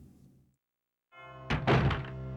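A door opens in the video game Resident Evil 2: a low rumble, a brief silence, then a heavy creaking swing with dull thuds, loud and close against an ambient game hum.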